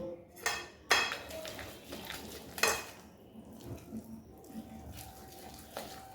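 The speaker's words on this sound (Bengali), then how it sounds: "ভালো করে একটা সুন্দর ব্যাটার করব" Mango malpua batter being mixed in a bowl, a utensil clinking and scraping against the sides in a few sharp knocks and softer swirls, close and moderately loud with no talking.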